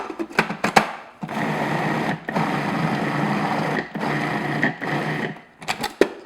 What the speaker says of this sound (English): And I'm just going to mix that in.